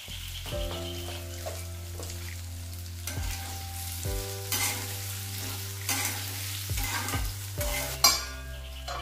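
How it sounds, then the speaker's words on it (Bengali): Potatoes frying with salt in a pan for a banana-flower dish, a steady sizzle broken by repeated stirring and scraping strokes, close and fairly quiet with a sharper clatter near the end; no talk. "আলুটা একটু লাল করে ভেজে নেব। নুন দিয়ে দিচ্ছি"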